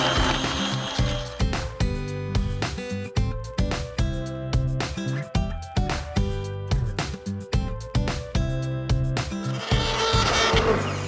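Stick blender whizzing cooked soup in a pot, a loud steady motor whir with rhythmic pulsing and shifting pitch as the blade works through the liquid, no speech.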